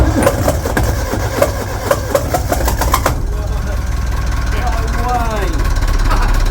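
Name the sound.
Perkins 4236 marine diesel engine starting up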